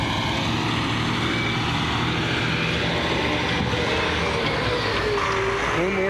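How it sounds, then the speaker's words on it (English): A truck drives up a driveway on a homestead where a barn is being built, its engine producing a loud, continuous rumbling drone that stays near and steady throughout. "There's truck number 2."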